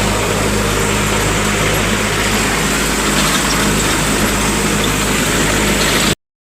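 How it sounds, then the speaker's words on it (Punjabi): A tractor engine drones loudly and steadily in a field, continuously at a constant idle, with low vibration throughout and no voices. "ਲੋ ਜੀ ਟਰੈਕਟਰ ਲੈ ਕੇ ਪਹੁੰਚ ਗਏ ਖੇਤ ਚ"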